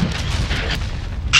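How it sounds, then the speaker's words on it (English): A cruise missile strike in a first-person shooter game lands as a dense cluster of booming, artillery-like blasts over about a second and a half, loud and rumbling, with a sharp burst near the end. "Enemy cruise missile incoming."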